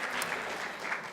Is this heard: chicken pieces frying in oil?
no